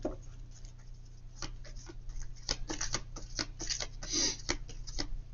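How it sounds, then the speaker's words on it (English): Tarot cards are shuffled close by in a quick series of soft, irregular flicks and riffling clicks, building into a denser burst near the end over a faint low hum. "I just shuffle through the cards, and whatever card falls out is your highest priority."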